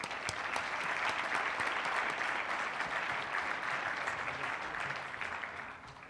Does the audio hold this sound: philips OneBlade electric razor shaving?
no